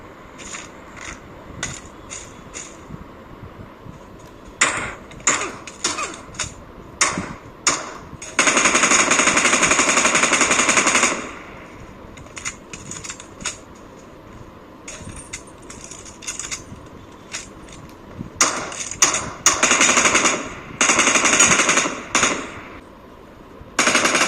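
Gunfire in a video game, rapid bursts of automatic fire and single shots in quick volleys, loud and close, separated by brief quieter gaps.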